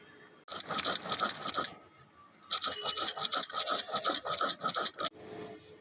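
Cumin being ground into a paste on a stone for a Bengali bhetki fish curry: rapid rhythmic rasping strokes in two bursts separated by a short pause, close and fairly loud, with no talking.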